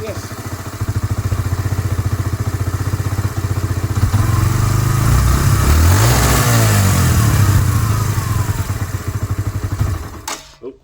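An abandoned Suzuki Marauder motorcycle found in a barn after six years runs loud and close, with a rapid steady engine pulse that rises in revs midway, then settles and cuts off near the end.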